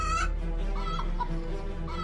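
A plump chicken clucks in a quick series of close, clear clucks over a constant low hum, with no talking.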